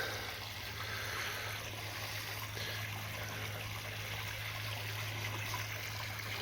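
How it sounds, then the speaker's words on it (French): The Yvette river flowing near houses along a footpath at Chevreuse, a soft, steady trickle of water heard faintly and evenly throughout, with no talking. "Le nom de ce cours d'eau s'appelle l'Yvette."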